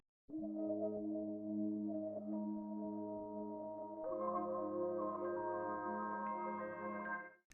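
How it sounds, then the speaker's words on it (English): A soft ambient synth pad swells in and holds layered sustained notes, shifting upward partway through like background texture, quiet and alone. "Next, I have this pad sound as an accent"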